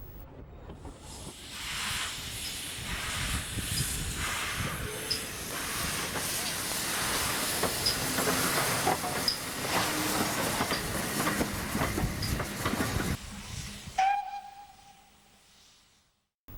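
GWR King class steam locomotive 6018 backs slowly through works tracks toward the turntable and running shed, with a continuous broad steam hiss and rumbling wheels for about fourteen seconds before fading to a quiet tail.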